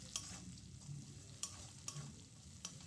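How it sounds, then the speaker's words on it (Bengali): Four green chillies fry in a pan with a faint, steady sizzle, while a spoon stirs them in a few quiet scrapes and knocks, and nobody speaks. "আবারও একটু নাড়িয়ে এটাকে ফ্রাই করে নিচ্ছি"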